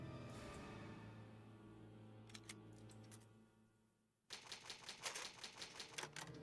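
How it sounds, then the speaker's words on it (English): An old typewriter serves as the save point in Resident Evil 1, giving a quick burst of crisp mechanical key clacks after a fading musical tone and a short pause. "Old typewriter. Save."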